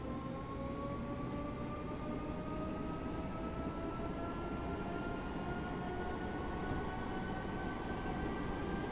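A Class 313 electric multiple unit runs steadily in Train Simulator 2017, its rising motor whine climbing in pitch over a constant rumble of wheels on track, heard close and continuous without any talk.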